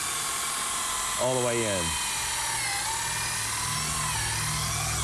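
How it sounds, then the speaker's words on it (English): A power drill bores pilot holes in furniture, giving a brief whine that winds up in pitch for under a second. Someone talks, and steady shop noise runs underneath. "We're drilling pilot holes right here."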